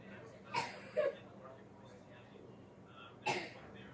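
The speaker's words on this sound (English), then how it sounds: "Still got that stupid cold cough from that cold." A few short, sharp coughs from a lingering cold, one early pair and another a few seconds later, fairly quiet against a faint background.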